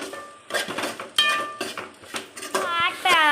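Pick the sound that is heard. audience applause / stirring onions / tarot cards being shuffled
stirring onions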